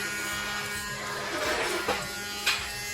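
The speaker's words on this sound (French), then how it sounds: "Toi aussi, tu nettoies avec ton aspirateur." A vacuum cleaner's small electric motor hums steadily, close by, with a couple of brief clicks or knocks partway through.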